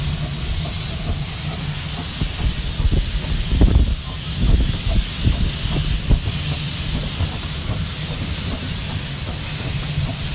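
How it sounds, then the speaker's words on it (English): Steam hisses continuously from the cylinder drain cocks of a Romney, Hythe and Dymchurch Railway miniature steam locomotive, heard from the cab as a loud broadband roar with heavier chuffing bursts around the middle. "That was what was leaking or hissing the steam out down below the cylinders."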